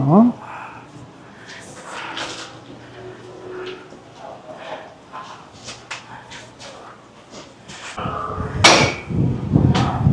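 Sharp metallic hammer knocks ring out irregularly, spaced by pauses, on a windy, rainy day in Jiufen, with a person speaking nearby and a louder burst of knocks near the end.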